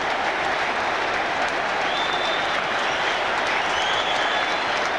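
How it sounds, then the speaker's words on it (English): A stadium crowd applauds Marco Branca's goal for Middlesbrough in the 1997-98 season, a dense, continuous roar of clapping and cheering that holds steady throughout. "And Branca takes the applause."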